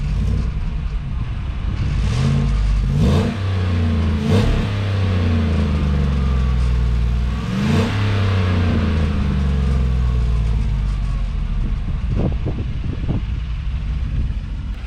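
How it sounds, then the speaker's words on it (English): A truck engine with its resonator deleted revs repeatedly in short bursts, climbing and falling in pitch, loud and close, with wind noise over the microphone. "But I'm gonna give it a couple revs."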